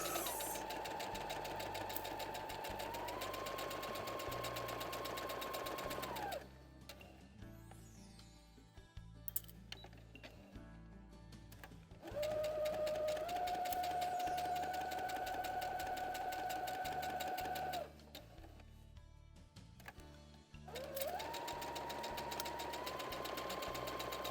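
A sewing machine stitches a straight seam on a small fabric vaccination-card booklet, running in three steady bursts of motor hum and whine with short pauses between them, close by and with no talking.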